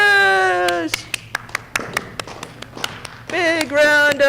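A small audience claps after a high school speech contest, a run of distinct, moderately loud claps sounding between spoken and sung voices at either end.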